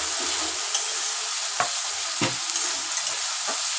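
Catla fish head fries in oil while being stirred, giving a steady close sizzle broken by a few sharp spoon-on-pan scrapes and clacks.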